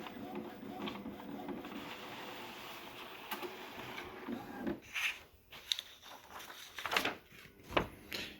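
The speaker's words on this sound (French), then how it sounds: "On va faire une impression du motif des buses pour voir ce que ça me donne" Inkjet printer running a nozzle check pattern, a steady mechanical whir followed by a series of clicks, clunks and short motor bursts as the carriage and paper move, close and fairly quiet.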